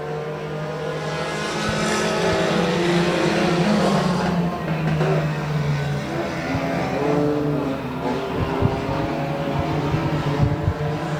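Race cars roar around the Rose Bowl Speedway oval, engines droning and shifting pitch as several pass, loud and sustained with a few sharp knocks, while a commentator talks over the racing.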